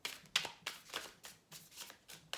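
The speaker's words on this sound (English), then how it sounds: "that was a nice clean shuffle, wasn't it, Cappy?" Quick riffling bursts of tarot cards being shuffled, about seven short rhythmic flicks close by and fairly quiet.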